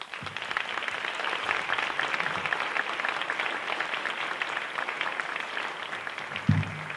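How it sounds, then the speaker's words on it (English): An audience applauds after a talk at a morning session, dense, even clapping sustained for several seconds at moderate loudness with no voices over it. "Let's give her another round of applause."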